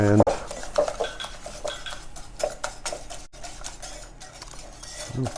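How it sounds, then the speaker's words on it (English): A French whisk beats tahini pie filling in a bowl, giving fast, rhythmic metallic clatter and scraping, close and loud, with a sharp knock near the start. "I found that a nice French whisk like this does a really good job. So I'm mixing this up"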